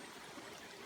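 Creek water runs steadily at a crossing where a UTV comes through, a faint, even, continuous rushing and trickling with no voices.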